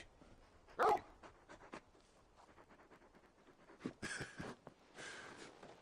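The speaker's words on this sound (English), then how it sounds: "You're just a big puppy, aren't you? A very big puppy." Torgal, the big dog companion in Final Fantasy 16, pants and snuffles softly in quick breathy bursts, with a louder huff near the start and rougher panting toward the end, all quiet and close.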